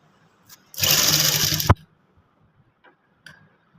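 A sewing machine runs in one short close burst of about a second while stitching shirt fabric, a fast whirring rattle that stops abruptly, followed by a few faint mechanical clicks.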